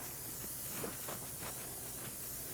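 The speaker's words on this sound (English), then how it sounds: "So we're going to spray them with butter spray." Butter spray hisses from a can onto freshly baked, browned cinnamon rolls in short, steady bursts, close and fairly soft, with no talking.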